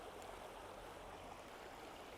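Stream water flowing over stones in the Peak District moorland: a faint, continuous rushing and gurgling wash with no distinct events, steady throughout and without any voices.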